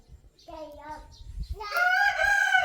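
A rooster crows loud and close, a drawn-out cock-a-doodle-doo rising into a strong final note, with a short clucking call before it.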